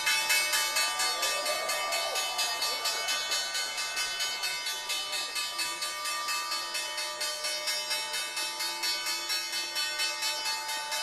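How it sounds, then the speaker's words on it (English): The New York Stock Exchange closing bell rings in fast, steady repeated strokes for about eleven seconds, bright and metallic, loud and continuous with no voices. "the ringing of the closing bell at the big board"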